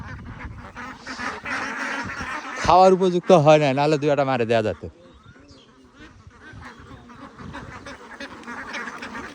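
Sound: ducks quacking near pond

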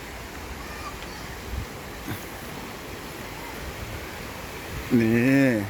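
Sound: stream flowing at Raksa Warin hot spring park, Ranong

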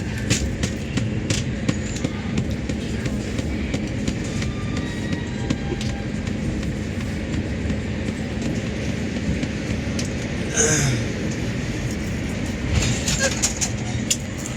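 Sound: train departing station

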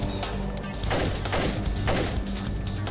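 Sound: gunfire from a turret in Splinter Cell video game

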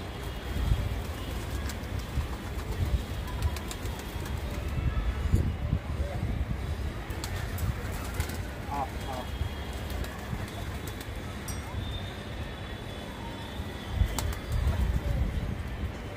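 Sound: pigeon cooing and flapping

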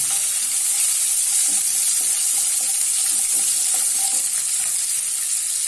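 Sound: frying green chillies with salt in oil

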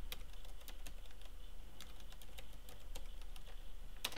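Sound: typing a password on a computer keyboard

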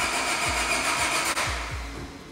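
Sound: Honda Civic engine trying to start

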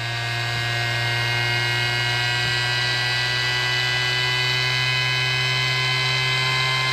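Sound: small DC air pump powered by drill battery running

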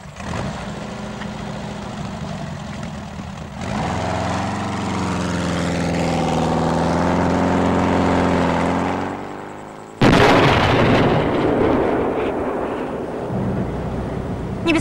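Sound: cannon firing

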